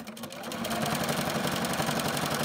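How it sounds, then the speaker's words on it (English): A sewing machine runs steadily while stitching binding onto a quilt, its rapid even motor hum and needle chatter picking up speed at first, then holding a constant, close rhythm. "you're going to sew until you're just about 6 inches away from the first part of your binding"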